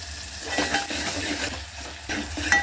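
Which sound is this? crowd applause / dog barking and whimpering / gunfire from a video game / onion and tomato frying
onion and tomato frying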